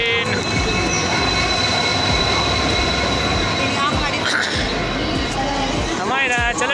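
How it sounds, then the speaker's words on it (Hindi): An Indian Railways passenger train rumbles past with a steady, loud roar, rhythmic wheel clatter and occasional metallic squeals, heard close up from the platform with people talking faintly underneath. "ये हमारी ट्रेन"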